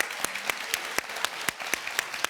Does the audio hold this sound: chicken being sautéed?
no